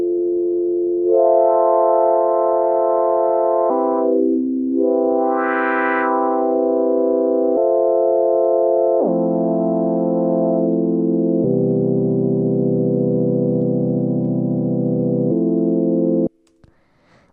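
Lo-fi house synth pad chords passed through a static low-pass filter: loud, warm held chords that change every couple of seconds, one swelling brighter briefly, sustained evenly, then cut off abruptly near the end with no voices.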